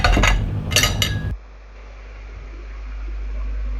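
Plates and cutlery clink and rattle during dishwashing for about a second, then the clatter stops and gives way to a low, steady rushing noise.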